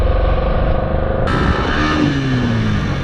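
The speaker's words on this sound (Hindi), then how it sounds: "तो ये गए हम 7000 RPM पे, थोड़ा सा आगे बाइक चलाते हुए 7 से 10 km/h की स्पीड पर" A Yamaha R15 motorcycle engine revs hard to about 7000 RPM, roaring loud and close with a steady whine that jumps sharply higher partway through while the bike rolls forward slowly.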